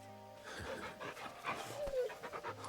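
Dog panting rhythmically while being petted in the Final Fantasy XVI video game, a soft, quick breathy huffing heard close and alone over quiet ambient music.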